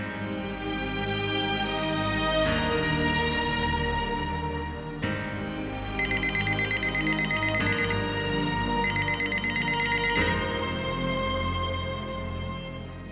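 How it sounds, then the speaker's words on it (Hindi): A telephone rings steadily and loudly on its own, its electronic ringtone repeating in regular bursts with no voices over it. "मैं अभी खतीजा को फोन करके आती हूँ।"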